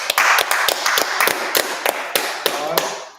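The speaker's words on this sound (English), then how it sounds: "Clap it up." A congregation at a Sabbath service claps in a loose, distinct rhythm, individual sharp claps from a smallish group rather than a dense wash, close and fairly loud, tapering off.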